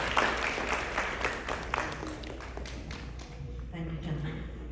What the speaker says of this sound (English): Round of applause for Nayantara.